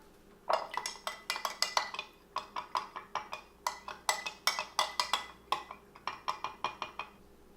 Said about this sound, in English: I'm gonna put a little bit of cold brew, just so that I can stir up that mocha.